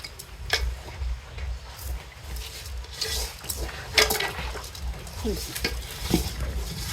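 Rice being tipped into a pressure cooker in a home kitchen for khichuri-style broken rice with taro leaves, with scraping, stirring and several sharp clinks of the metal pot being handled, close and fairly steady.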